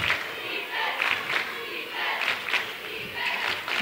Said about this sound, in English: Crowd chanting some defense now.